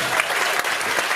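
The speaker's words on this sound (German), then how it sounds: "Großen Applaus für Maya, meine Damen und Herren." Theatre audience at Scheune Dresden applauding a puppet comedy show, a dense, loud, continuous wash of clapping filling the whole moment with no break.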